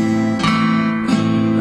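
Acoustic guitar strummed with the thumb and first finger in a slow beginner pattern, played close with two clear strokes over a ringing chord and no talking.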